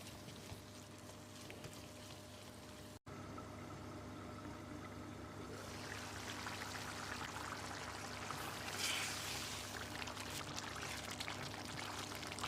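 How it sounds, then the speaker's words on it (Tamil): Gravy made with about five cups of water boiling in a covered pot, a continuous low bubbling hiss that grows fuller and brighter after a brief dropout, with no voices. "கிரேவி நல்லா கொதித்து வந்துருச்சு."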